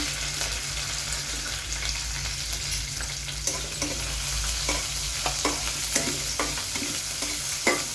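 Green chilies frying in hot oil with bloomed cumin seeds, a steady close sizzle with stirring scrapes and clicks of a spoon in the pan throughout.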